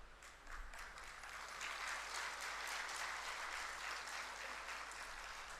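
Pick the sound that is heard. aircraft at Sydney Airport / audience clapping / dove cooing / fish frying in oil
audience clapping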